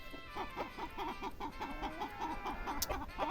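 A grey rooster clucks in a steady run of repeated calls in a village, fairly faint, with no talking.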